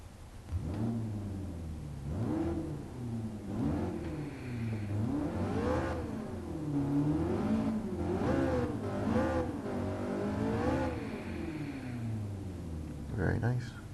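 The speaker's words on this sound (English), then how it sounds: "hear the engine and see how this girl roars" A 2010 McLaren MP4-12C engine in Gran Turismo Sport revs up and down repeatedly, rising and falling in loud, close sweeps, with a voice speaking at times over it.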